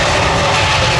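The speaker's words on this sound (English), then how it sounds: "Just taking off now, the A320neo." An Airbus A320neo jet takes off at the ILA Berlin Air Show 2016, its engines a loud, steady broadband roar filling the whole moment.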